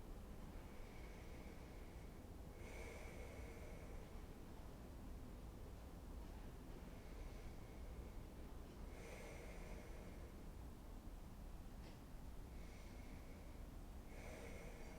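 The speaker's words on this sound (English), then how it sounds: "A few more deep breaths here." Slow, deep yoga breaths while resting in a pose, recovering from a common cold: long airy inhales and exhales repeating every few seconds, soft and close over a steady hiss, no talking.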